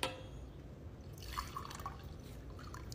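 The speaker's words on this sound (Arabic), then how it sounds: "الآن بصب من الزير وبشوف" Water poured from a clay water jar (zir), heard as soft trickling and dripping against a quiet background, faint and close, with a few brighter splashes midway.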